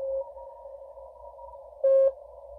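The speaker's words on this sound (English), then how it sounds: "I'm going to put it on Morse code or CW mode" Morse code CW signal received on a ham radio in CW mode, a steady continuous tone carrying a fainter keyed note that briefly swells louder near the end, with no voices.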